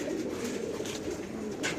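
Domestic pigeons coo steadily and close by in a low, continuous rolling murmur that carries through the whole stretch, with no one speaking, amid a large flock kept for flying, including a female brought from Narsingdi.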